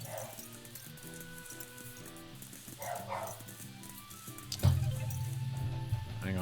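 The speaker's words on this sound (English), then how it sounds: "dog's just barking for absolutely no reason" A pet dog barks indoors behind game music with a steady melodic bed, giving a few sharp, mid-distance yaps in short bursts, with one louder bark near the end.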